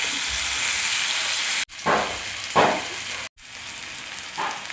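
Fish frying in a pan for a Kerala-style lunch, a loud continuous hiss of hot oil, broken twice by brief near-silent gaps as the pieces are turned, then resuming with rising sizzle bursts.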